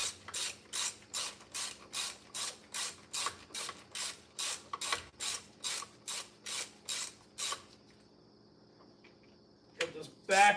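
A ratchet snugs down cylinder head bolts during a head gasket replacement, with about sixteen evenly spaced, loud clicking strokes in a steady rhythm, then a quiet stretch and a brief clatter of tool handling at the end.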